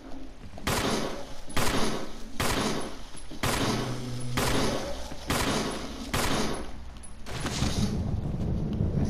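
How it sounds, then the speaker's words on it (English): Repeated bursts of gunfire aimed at a zombie in the Resident Evil video game, loud shots in regular clusters roughly every second with brief gaps between, no talking. "Then we're going to go out here and there'll be a zombie which we're going to gun down."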